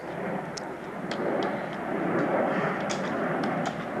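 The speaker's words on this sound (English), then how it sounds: "There's another airplane over there" A steady, broad engine roar of an airplane passing overhead, fairly constant in level, with faint scattered clicks and rustles in the background.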